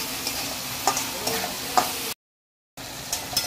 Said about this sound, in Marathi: अजून 2 मिनिटं आपण फ्राय करून घेऊया, म्हणजे मस्त भाजी शिजेल।